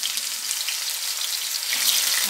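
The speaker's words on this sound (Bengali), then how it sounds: "চিপসগুলো ভেজে নেব।" Green banana chips frying in hot oil, a steady close bubbling sizzle with crackling that grows slightly louder toward the end.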